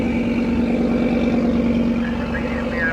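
A steady, loud engine drone and rumble from an Audi car heading out onto a race track, continuous over the whole stretch with faint background activity.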